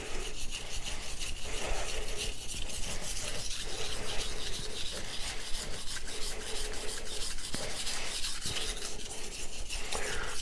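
A knife blade scrapes steadily back and forth across a Sharp Pebble whetstone, producing a continuous close-up gritty rasping and rubbing with no talk.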